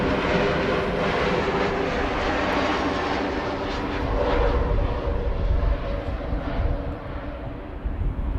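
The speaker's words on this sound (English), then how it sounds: "We have an Embraer 190 over here, arriving from Bremen" Embraer 190 airliner arriving at Amsterdam Schiphol, a loud, steady jet engine roar with a low rumbling undertone and whining tones that swells briefly mid-way before easing off.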